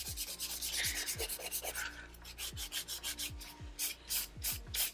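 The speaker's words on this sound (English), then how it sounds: "and then filing up again, and then going over the whole tip" Fingernails are filed with a nail file in quick, rhythmic back-and-forth strokes, a close, soft rasping scratch repeated many times.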